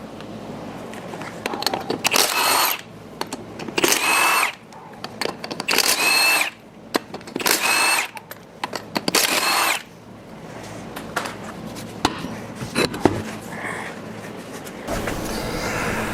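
A power tool works on the wheels and tires of a classic Jeepster Commando, firing in several loud whirring bursts separated by quieter pauses and small clanks.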